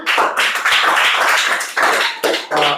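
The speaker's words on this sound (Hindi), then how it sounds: "धन्यवाद, इसको भी ताली बजाओ इसके लिए भी।" Children in a classroom clap in continuous bursts, loud and close, with short breaks between rounds of clapping.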